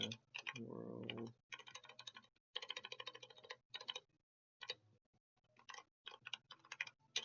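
Rapid typing on a computer keyboard during coding practice, bursts of crisp close key clicks separated by short pauses, with no talk.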